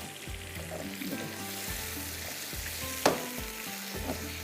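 Fish frying under a lid in a pan with spices, green chilies and lemon juice, a soft muffled sizzle with low rumbling bubbles and a single sharp clink partway through.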